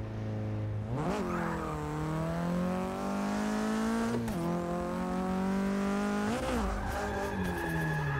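A stock turbo Nissan 240 in the Forza 6 racing game drifts around Lime Rock Park, its engine revving in rising and falling sweeps while the tires squeal continuously through long slides.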